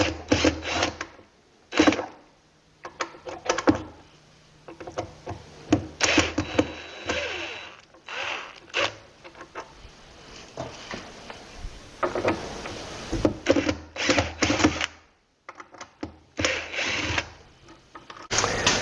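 A power driver backs drywall screws out of an oak wardrobe base in a workshop, giving repeated bursts of high whirring with short pauses between screws, loud and close, with no talking.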